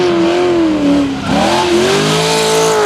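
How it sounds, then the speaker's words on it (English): A V8-powered Mazda FC RX-7 drift car at full throttle during a D1NZ drifting championship round in Christchurch: a loud, sustained engine roar that dips briefly, then climbs again, with no voices. "Round 3 winner Andrew Redwood enjoying full throttle in the V8 powered FC RX-7."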